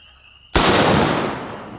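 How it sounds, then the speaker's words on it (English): An M1 Garand rifle chambered in .30-06 fires a single close, sharp shot at an outdoor range, the loud crack followed by a decaying echo after a moment of quiet. "All right, very first shots with an M1 Garand."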